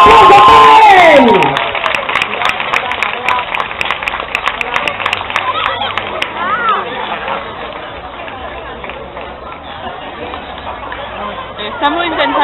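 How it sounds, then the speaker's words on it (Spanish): Audience applause and cheering ring out at a cosplay catwalk in Akihabara, a dense crowd roar that stays loud throughout, mixed with chatter, shouts and a host's amplified voice. "¡Un fortísimo aplauso para él!"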